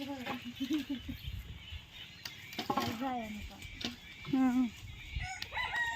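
Chickens near a coop cluck and a rooster crows faintly in several short bursts, fairly distant and quiet against background noise.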